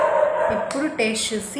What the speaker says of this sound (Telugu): కుక్క అరుస్తుంది.